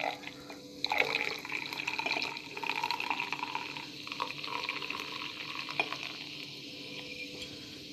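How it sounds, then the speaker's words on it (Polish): Champagne poured into a glass with the left hand, a steady fizzing, splashing pour with bubbly hiss running close and continuous for several seconds. "Lewą ręką szampana nalewać to nie jest prosta sprawa."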